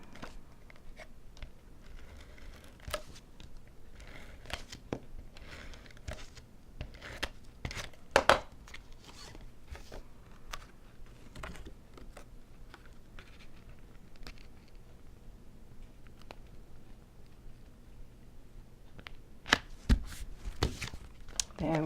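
A tape runner lays adhesive onto cardstock during papercrafting, making soft, repeated ticking and scratchy clicks with occasional sharper taps, faint and close.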